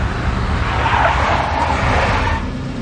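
A video game car, a big black Mercedes, roars steadily with tire noise and screeching, a continuous loud driving sound with no voices.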